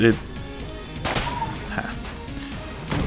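Gunfire from the video game Enter the Gungeon, a burst of close, punchy shots and crackling impacts layered with game effects. A voice talks over the shooting throughout.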